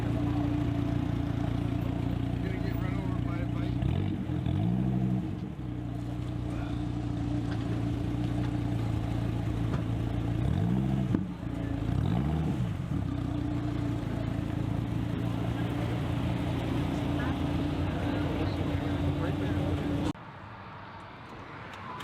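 Dodge Viper engine on stock exhaust, idling with a deep steady rumble and blipping its revs twice in rising and falling sweeps, heard close by for about twenty seconds.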